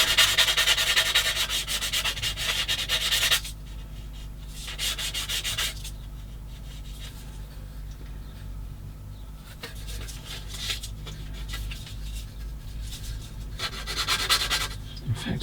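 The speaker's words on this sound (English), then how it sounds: "we're going to get now a sanding stick just to clean it the bits there" Steady scratchy rubbing of a sanding stick on a plastic 1/16 scale tank model part, close up, coming in back-and-forth strokes with a few quieter pauses, no voices.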